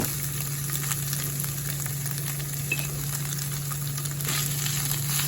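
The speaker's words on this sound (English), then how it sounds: "I'm just gonna put my turkey in, put that down a few minutes" Turkey frying in melted fat in a pan, giving a steady, continuous sizzle with faint crackles over a low electrical hum, holding at an even level throughout.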